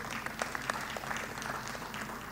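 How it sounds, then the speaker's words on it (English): Brief, moderately faint round of applause from members at an annual members' meeting, scattered claps standing out over a steady wash of clapping, heard from across the room. "Can you clap for the staff of NSSF?"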